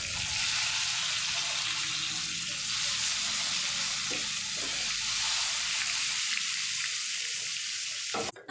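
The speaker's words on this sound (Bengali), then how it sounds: "বাকি বেগুনগুলোকেও একই প্রসেসে ভাজা করে নেব" Eggplant slices frying in a pan, a steady close sizzle and crackle that carries on for several seconds before dropping off near the end, without speech.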